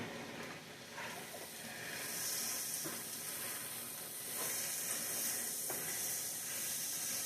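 Cabbage crowding a frying pan hisses and sizzles steadily at close range, the frying rising louder partway through with a few soft stirring clicks and no talk.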